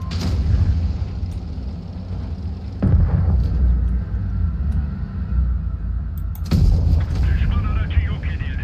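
Two heavy tank cannon blasts in World of Tanks Blitz, spaced several seconds apart, each a booming crack followed by a rumbling tail over a constant engine drone, with someone talking in between.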